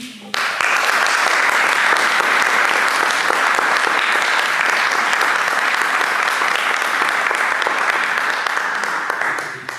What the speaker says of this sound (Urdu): ہم تالیاں مل کر ویلکم کریں